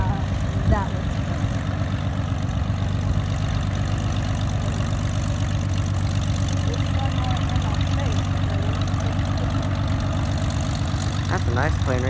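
A Piper Cherokee light aircraft engine idles with a steady, loud low rumble and rhythmic propeller throb that holds constant throughout, close by, while people talk over it.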